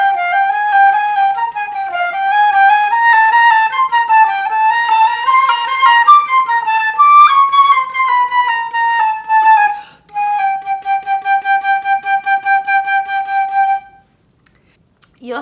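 Flute plays the Bizet Menuet with slurred staccato notes, a light tongue touching a continuous airstream, running through a flowing phrase and then a steady row of evenly detached repeated notes before stopping.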